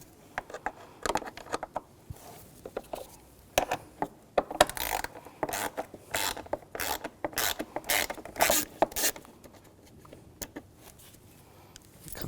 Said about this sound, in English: Take those screws out.